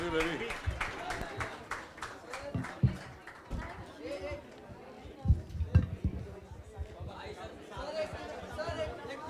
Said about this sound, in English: Once again for Deedara aka Dara Singh, a round of applause.